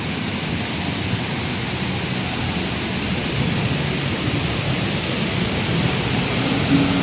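A famous waterfall at Rairangpur pours in a steady, dense rushing roar, close and loud, holding an even level throughout with no voices.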